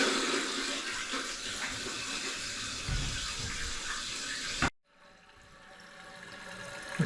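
Water rushes loudly into a toilet tank refilling after a running-toilet repair, a steady hiss that cuts off abruptly and is followed by a quieter trickle rising again.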